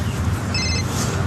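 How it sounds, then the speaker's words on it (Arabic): Telephone ringing indoors in a Moroccan film scene, a short high electronic trill over a low steady background hum. "جاوب في التليفون."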